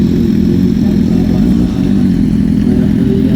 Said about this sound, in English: BMW S1000 Double R is going to have his work cut out for him because he's going to have to race Rebecca A